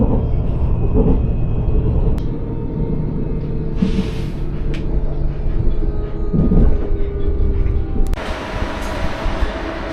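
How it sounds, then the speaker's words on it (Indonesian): Continuous low rumble of the KLIA Express airport train running non-stop from KL Sentral toward KLIA, heard from inside with steady wheel and motor drone and a few brief higher-pitched swells. "KLIA Express beroperasi non-stop dari KL Sentral ke KLIA dan KLIA 2"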